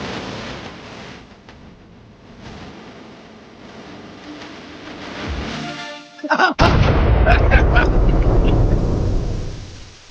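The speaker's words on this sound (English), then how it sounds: "Always explosions. That's our go-to." A loud, deep blast erupts partway through, followed by a sustained roaring rumble, after a stretch of quieter background noise.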